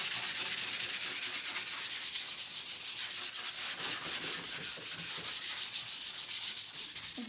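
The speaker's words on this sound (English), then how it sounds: "So it's super easy to sand down." Dried wood filler on a piece of furniture being sanded by hand, a steady rhythmic scratching of abrasive strokes that continues close and alone throughout, no talking.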